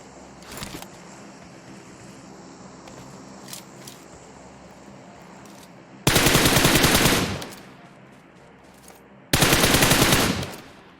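Gunfire in PUBG Mobile comes as two loud, rapid automatic bursts, each lasting about a second, after a quieter stretch with a few distant isolated shots.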